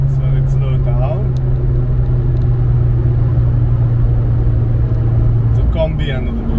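An Opel Kadett GSi 16V accelerating in fifth gear, its engine a loud, steady low drone with road rumble heard from inside the car, while a voice talks over it.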